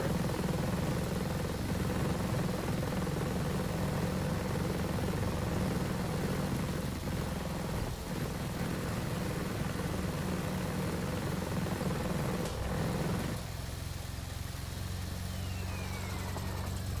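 Helicopter in the Ghost Recon Breakpoint video game: a steady, loud rotor and engine drone holds throughout, dropping slightly in intensity near the end without any talk.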